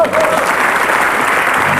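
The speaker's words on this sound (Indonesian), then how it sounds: "Tepuk tangan." A studio audience on an Indonesian talk show breaks into a short burst of steady, loud clapping.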